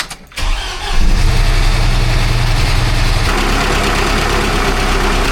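Newly installed replacement car engine, fitted after a cracked block, cranks and catches about a second in, then settles into a loud, steady idle with a slight tapping running through it.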